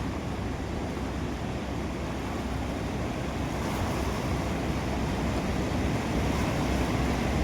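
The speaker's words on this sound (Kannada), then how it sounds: "24 ಗೇಟ್ದಿಂದ ಈಗ ಸದ್ಯ 2 ಗೇಟ್ದಿಂದ ನೀರು ಬಿಡತ್ತಾರ" Water released through two gates of the Hipparagi barrage in Jamkhandi taluk, a steady, loud, broadband roar of rushing water with wind buffeting the microphone, unbroken throughout with no voices.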